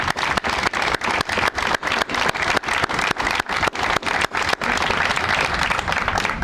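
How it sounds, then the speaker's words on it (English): An audience at the West Side Flats grand opening in St. Paul breaks into sustained, dense applause for retiring Al Carlson, steady many-handed clapping heard up close. "give Al a round of applause"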